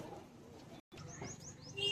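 Pigeons coo and chirp faintly up close while being handled for sale, soft warbling calls with brief rising chirps over a murmur of background voices, broken by a momentary dropout.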